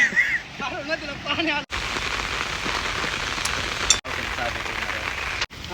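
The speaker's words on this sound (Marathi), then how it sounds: "तीन दिवस झालं लगातार पाऊस चालू आहे" Steady heavy rain pours down on farmland, a constant hiss of drops on surfaces, with a voice heard briefly at the start.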